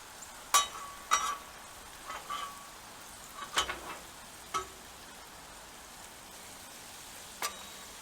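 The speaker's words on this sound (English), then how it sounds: "I'm going to hit these fries now with a little bit of oil." Fries sizzle in oil on a Blackstone griddle, a faint, steady crackle broken by a few sharp clicks and scrapes of a spatula tossing them.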